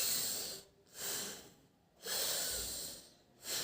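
Alternate nostril breathing in an anulom vilom exercise: slow, soft nasal inhales and exhales alternate in a steady rhythm, close and quiet, with short pauses between breaths.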